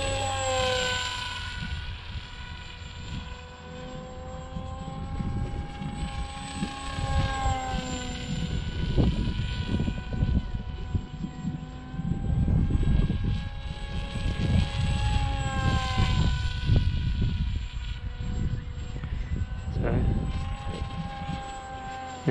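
An H-King AXN radio-controlled model plane's motor at half throttle makes a sustained whine with wavering pitch as the plane flies past. A faint voice may occasionally sit under the whine.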